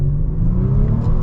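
A 2022 Maserati Levante Modena's engine revs briefly up close, a loud, steady throaty drone with a rising harmonic sweep, no talk over it.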